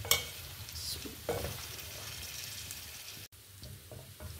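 Aloo gobi, potatoes and cauliflower with green chillies, frying in oil in a pan, giving a steady close sizzle with stirring scrapes and a brief dropout near the end.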